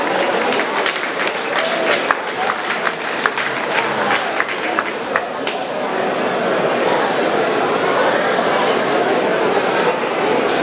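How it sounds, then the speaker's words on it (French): An audience at an award ceremony applauds, with dense clapping that starts sharp and settles into a steady wash, mixed with crowd chatter and a voice speaking. "que je vous demande d'applaudir également."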